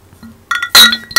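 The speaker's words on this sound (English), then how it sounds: "do you want to do the old-fashioned clink?" Glasses clink together in a toast, with two bright, ringing clinks close by after a few quieter handling taps, and no talking.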